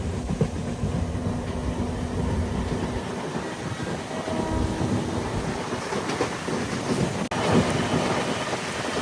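MEMU passenger train running between Kacheguda and Raichur, heard from inside the coach as a constant loud rumble and rush with rhythmic wheel clatter over the rails and a brief sharp jolt near the end.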